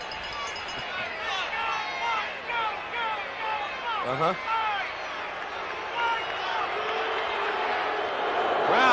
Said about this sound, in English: Crowd still reacting to that call, and a good one by the officials